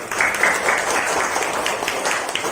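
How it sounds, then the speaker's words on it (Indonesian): Audience applause at an Indonesian school or community event, a steady wash of many hands clapping at moderate level, sustained and fairly even with no voices on top. "Tepuk tangan dong."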